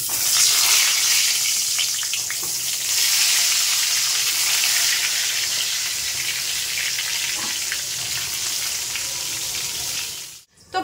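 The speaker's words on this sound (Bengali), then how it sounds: "তোমার সাথে শেয়ার করলাম বেগুন ভাজা ভাজছি" Eggplant slices fry in a pan with a loud, continuous hiss and crackle of hot oil, steady throughout before cutting off abruptly near the end.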